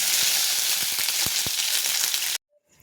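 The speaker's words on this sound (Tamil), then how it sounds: "நல்லா கடுகு பொறிஞ்சிருச்சு இப்போ கருவேப்பிலை போட்டுக்கலாம்" Curry leaves and popped mustard seeds sizzle loudly in hot oil for a potato kurma masala, a broad steady fry with several sharp crackling pops, ending in sudden near-silence as the sizzle cuts off.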